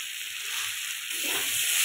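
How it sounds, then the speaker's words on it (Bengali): Two fish heads fry in a pan of spiced oil with cumin, ginger and chili paste, giving a steady close sizzle and hiss that swells slightly toward the end. "মাছের মাথা দুটো দিয়ে একটু ভেজে নিব"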